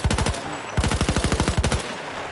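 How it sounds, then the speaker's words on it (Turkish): Rapid machine-gun bursts in the video game Battlefield 1, loud and close, fired in three quick volleys of evenly spaced shots with no talk over them. "Silah da sıkmış mı?"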